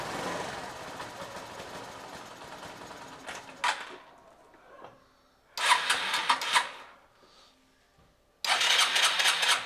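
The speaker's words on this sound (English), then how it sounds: "Now let's start the bike and let's see if the problem is gone." A Suzuki Access scooter with a carburetor idle problem is started repeatedly, a short whirring crank followed by the engine catching briefly, then fading out; the starter bursts recur three times with quieter gaps between, close up.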